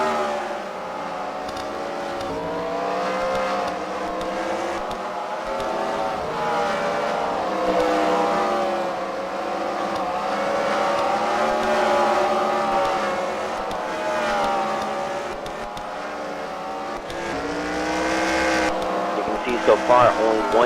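Race cars circle a track at the Freedom Factory during a CWRL fight night, several engines droning and surging together in a continuous, fairly loud wash that swells and fades as the cars pass, with talk over the top.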